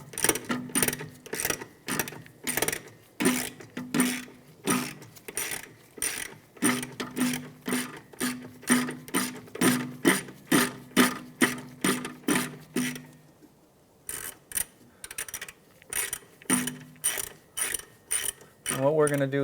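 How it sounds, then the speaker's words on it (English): A ratchet wrench works loose a 12 mm bolt on the rear brake caliper bracket of a 2003-2011 Honda Element, clicking in fast, steady rhythmic bursts close up, with a short pause before the ratcheting resumes, and no talking. "we're just going to take this bolt out here, which will give us a little more room to remove our caliper"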